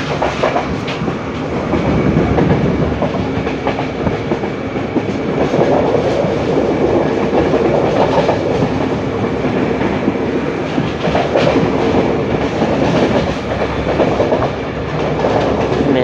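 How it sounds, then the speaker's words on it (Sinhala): A train rolls through a railway station in Sri Lanka with a steady, loud rumble and rhythmic clickety-clack of wheels on rails, continuous and close for the whole stretch. "ඉතින් මේ තමයි ධාර්ලෝ දුම්රිය ස්ථානය."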